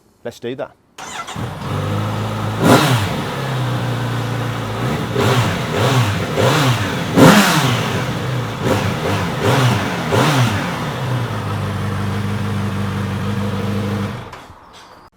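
A Kawasaki Z900RS motorcycle engine cranks and fires up, then is blipped through a series of revs before settling, loud and close, with someone speaking briefly at the start.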